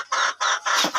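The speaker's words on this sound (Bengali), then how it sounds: "এই যে দেখুন, আমার এখানে দেশি মুরগিও আছে" Desi hens on a small rooftop farm cluck in four quick, close, loud bursts, with no one talking.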